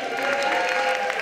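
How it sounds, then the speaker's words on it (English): An audience claps together at a stage performance, a brief, even burst of applause with a dense, crackling texture. "Give claps for all of you."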